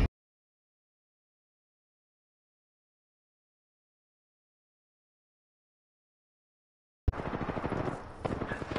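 Video-game gunfire: after a long stretch of silence, a short, dense burst of rapid shots breaks in loudly at the very end.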